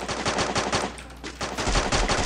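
Rapid bursts of automatic gunfire from a mobile shooter game played on an emulator, loud and close, with a brief pause in the middle before the firing resumes.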